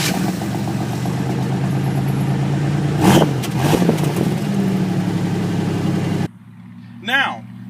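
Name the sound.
Oldsmobile Cutlass Supreme engine starting and revving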